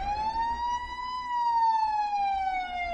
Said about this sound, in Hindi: तभी दरवाजे से पुलिस सायरन्स की आवाज सुनाई दी।